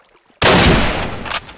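A sudden loud burst of gunfire in a Minecraft zombie-apocalypse roleplay game, starting abruptly after near silence and holding as a dense, sustained blast with a few sharper cracks near the end.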